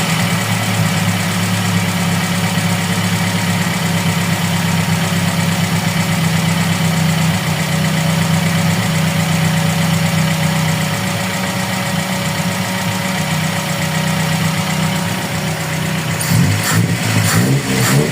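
A Toyota Corolla with a 2E engine idles steadily at close range, a continuous even hum with a faint knocking undertone, and a few clattering noises come near the end.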